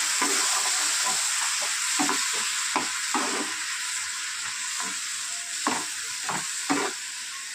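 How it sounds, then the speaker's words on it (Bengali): Spice paste with cumin and coriander powder sizzles steadily in a pan, with a spoon scraping and stirring at irregular intervals, close and continuous, with no talking. "এবার কষিয়ে নেবো।"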